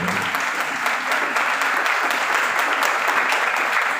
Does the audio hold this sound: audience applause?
yes